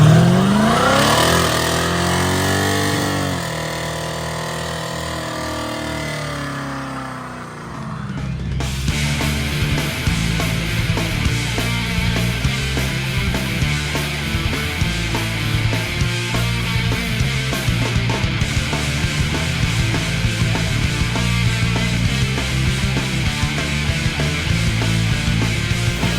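A Holden 253 V8 engine in a Torana idles with a rising whine, then roars into loud, sustained revving that rumbles on steadily without letup.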